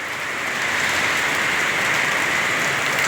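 Steady heavy rain pours down without pause, a dense, even wash of drops on surfaces close by with no voices.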